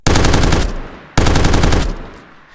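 A machine gun fires in a video game as two loud, close bursts of rapid shots, each lasting under a second and trailing off into a short echo, with no voices.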